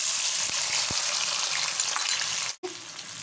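Tomatoes hit hot oil in a pan for achari baingan, a loud, close, hissing sizzle with a few small pops, briefly cutting out near the end before resuming.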